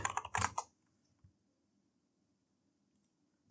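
Quick bursts of typing on a computer keyboard, close and clear for about half a second, then a single soft key tap and a faint click later amid near silence.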